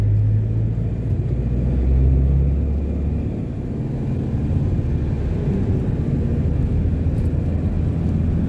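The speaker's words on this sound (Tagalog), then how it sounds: "Napakalaking truck." A huge truck rolls past on a high mountain road, a loud, steady low rumble that swells and then eases as it goes by, with no talk over it.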